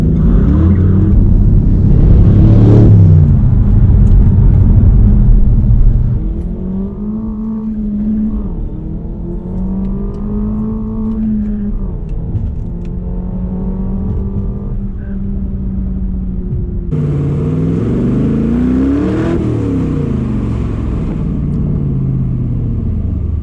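A Cobra sports car's engine rumbles loudly and revs up and down through a sustained run, with rising and falling engine pitch and a harder acceleration burst near the end.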